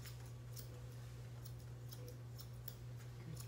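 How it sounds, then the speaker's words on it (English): Straight scissors trim a Yorkie's fur, a faint series of quick snips close by over a steady low electrical hum, with no talking. "Now, I do all this part with straight scissors"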